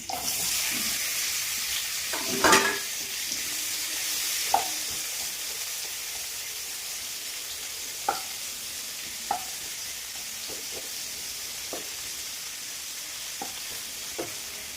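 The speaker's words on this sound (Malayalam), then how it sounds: "ഒരു കടായ അടുപ്പത്ത് വെച്ച് ഞാൻ കുറച്ച് വെളിച്ചെണ്ണ വെണ്ടക്കായ ഒന്ന് വാട്ടിയെടുക്കാനായിട്ട്" Okra sautés in coconut oil in a kadai, a steady close sizzle broken by occasional light clinks and stirring taps of a spoon against the pan.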